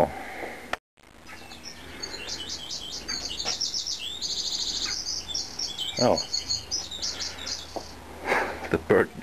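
A bird chirps and trills in rapid, rhythmic bursts through most of the clip, fairly close and clear, while someone working on a disassembled CRT monitor makes a brief exclamation and handling noises.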